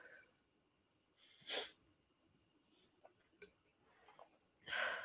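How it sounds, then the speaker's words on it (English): Quiet sniffs and breathy snorts come in a few short bursts, close to the microphone, with soft rustling between them. "Not just with me sniffling and coughing."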